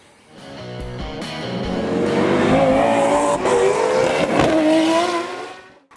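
A BMW 335i cruises with its engine rising into a loud, tonal drone that swells and holds, then fades at the end.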